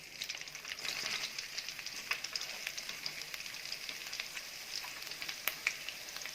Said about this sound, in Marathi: आता आपण ह्याच तेलात थोडंसं अद्रक लसूण चॉप केले होते ते मी टाकणार आहे